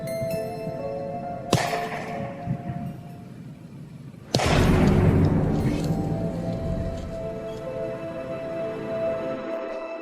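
Rangers fire two hazing shots to scare off a bear: two sharp, loud cracks a few seconds apart, the second followed by a long ringing decay outdoors.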